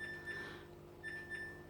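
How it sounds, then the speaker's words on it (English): A fridge freezer's door-open alarm gives faint, quiet electronic beeps in short repeated pairs, set against a low steady hum in a quiet room. "an alarm sounds if you leave it open for too long"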